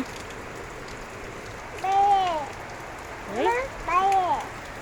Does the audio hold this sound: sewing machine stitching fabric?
no